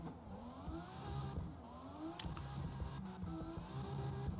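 A car engine tuned for low-end torque and a high rev limit climbs through the revs with a rising, buzzing tone that repeatedly sweeps upward, fairly distant and alone.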